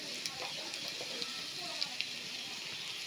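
Whole spices and a bay leaf frying in hot oil, a steady close hiss and sizzle with faint crackles and light stirring clicks, with a voice talking over it.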